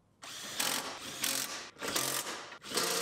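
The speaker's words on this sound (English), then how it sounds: "Screw our BCM bracket back in." A power driver runs a screw into a BCM bracket inside a Silverado cab during a collision cab-swap rebuild, giving four loud, close whirring bursts with brief pauses between them.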